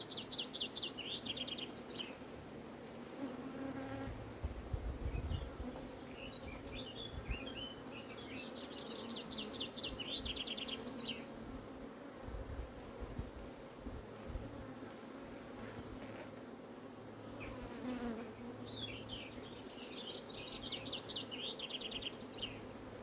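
Honeybees in an open, crowded beehive give a dense, continuous buzz close by, with birds chirping intermittently in the background.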